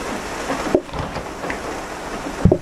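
Rain falls in the restaurant cooking game PlateUp as a soft, steady patter with a couple of sharper ticks, and no talk is heard.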